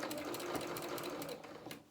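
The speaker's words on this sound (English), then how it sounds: "as I sew this, these stripes are on top of each other" A sewing machine stitches the hem of a lined striped curtain, a fast steady whirring rattle running without pause, close and fairly quiet, easing slightly near the end.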